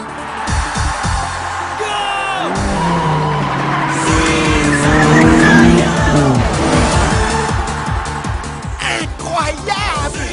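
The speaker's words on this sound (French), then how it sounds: "Dès le premier virage, il nous sort un twin drift." Two cars twin drifting through the first corner after a race start, an animated street-racing scene with squealing tires and revving engines, rising to a dense wail mid-way, with a cheering crowd and music behind.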